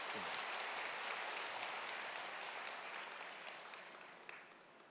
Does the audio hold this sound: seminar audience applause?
yes